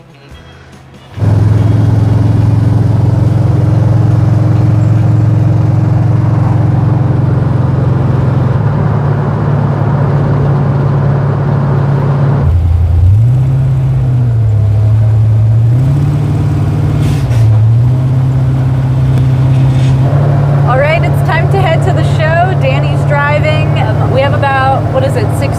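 A lowered car cruises on a freeway with a loud, steady engine drone and road roar. Pitch shifts show speed changes and gear changes, and a voice is heard toward the end.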